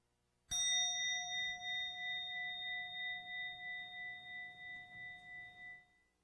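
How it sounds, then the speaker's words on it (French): A meditation bell struck once, ringing out with a clear sustained tone that slowly pulses and fades over several seconds in a quiet room. "je vous invite à porter attention à la cloche"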